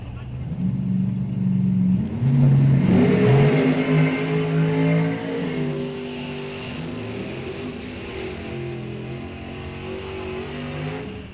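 A Corvette Roadster launches hard at a drag strip, its engine roaring loud and close in rising, stepped tones as it accelerates away, then holding a steady high drone.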